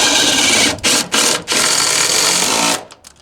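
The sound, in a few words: screws driven into wooden stair stringer with a power driver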